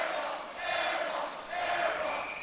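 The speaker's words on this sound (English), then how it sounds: "This crowd is working C.J. Brown for that missed shot." A college basketball crowd of Utah State fans jeers an opposing South Florida player, C.J. Brown, with two swelling waves of loud, sustained, chant-like crowd noise.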